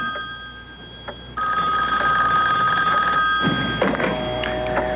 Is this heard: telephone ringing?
yes